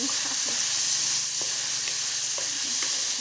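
Oil sizzles and spatters steadily in a frying pan as meat browns for sotanghon guisado, a dense continuous hiss broken by small irregular pops, close and fairly loud with no talking.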